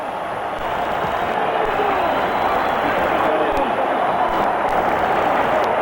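A boxing arena crowd in Auburn, Washington roars and cheers for their hometown fighter after the bout ends, a dense, steady wall of loud crowd noise with applause throughout.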